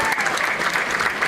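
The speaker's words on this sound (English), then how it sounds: "it deserves another round of applause" Applause at a Florida gay rights gathering, a brief burst of dense, steady clapping from an audience, loud and close with no gaps.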